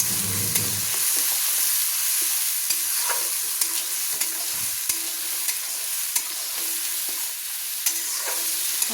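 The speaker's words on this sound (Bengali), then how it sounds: "তেলের সঙ্গে কষিয়ে নিচ্ছি।" Onion paste frying in oil as it is stirred, a continuous close sizzle with repeated clicks and scrapes of the spoon against the pan, no voices.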